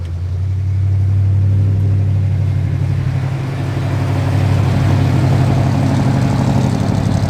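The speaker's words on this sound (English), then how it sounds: "the air kicks on" A steady low engine rumble of an idling 1951 Ford F1 truck fills the clip, with a broadband blowing hiss of the air conditioning layered on top, continuous and fairly loud throughout.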